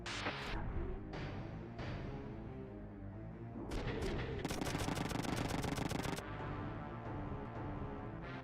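Enemy machine gunners fire in the video game Front Mission 3, with a rapid, loud burst of automatic fire partway through, set among heavy booming gunfire and a dense battle din.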